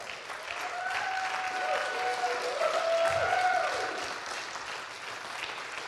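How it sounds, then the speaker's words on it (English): A church congregation applauds at moderate distance, the clapping swelling and then easing, with a sung or sustained musical tone running underneath. "that deserves an applause"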